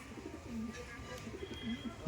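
A Kala Sobuj pigeon gives soft, low coos in a few short rolling phrases, faint and close, over a quiet background hum.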